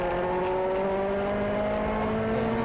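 A race car engine on throttle in Assetto Corsa Competizione at the Autobahn Country Club South track holds a steady, buzzing note that climbs slowly in pitch. It sounds close and constant, with no talking.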